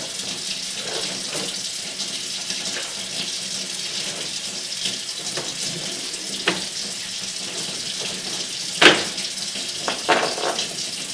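Water runs continuously through a sewer drain line during a plumbing inspection at a house, a steady rushing flow with occasional faint knocks and clunks, no speech.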